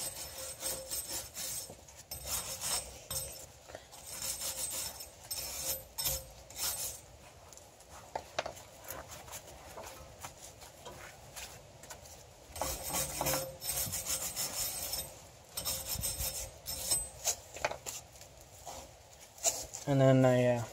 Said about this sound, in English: Get all the rust buildup and all that cleaned away.